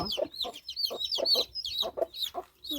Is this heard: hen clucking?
yes